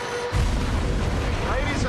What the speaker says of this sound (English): that's the sound of a crushed automobile being shredded